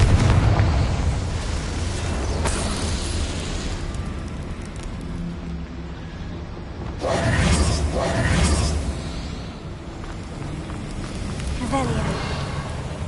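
Booming blast bursts from a Confringo spell in Hogwarts Legacy, a sustained rumbling explosion with a second swell midway, layered over continuous game noise and a voice.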